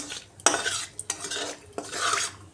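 A cinnamon stick fries in oil in a pan, with three sharp spoon-scraping stirs cutting through a soft, close sizzle.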